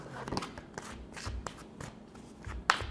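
Tarot cards being shuffled up close, soft papery riffles and taps in uneven bursts ending with a sharper snap, with no voice.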